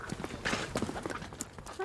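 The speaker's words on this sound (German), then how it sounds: "Dort sind jetzt die kleinen Shetland-Ponys umgezogen in den neuen Stall." Small Shetland ponies clip-clop across the floor of a new stable, with light, irregular hoof knocks close by. The hoof sounds run under a person talking.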